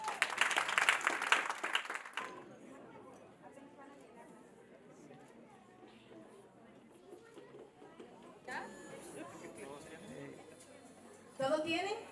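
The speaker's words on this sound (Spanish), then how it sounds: "Denle un aplauso al Señor." A wedding congregation at a church ceremony breaks into a short, loud burst of applause that fades within a couple of seconds, followed by quieter talking and a few scattered claps near the end.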